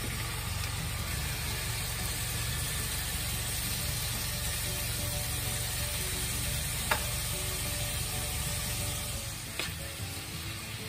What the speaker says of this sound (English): I want to get my onions and squash a little brown